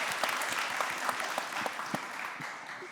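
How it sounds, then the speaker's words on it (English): Applause from a conference audience at a corporates-meets-startups event, fairly soft and a little distant, with scattered distinct claps standing out and the clapping tapering slightly toward the end. "Yeah, some applause here."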